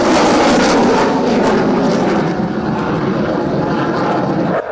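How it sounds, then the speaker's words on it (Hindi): A Rafale fighter jet passes overhead during the Indian Air Force's 88th anniversary display at Hindon airbase, a loud, steady broadband engine roar that fills the whole stretch and eases slightly toward the end. "राफेल"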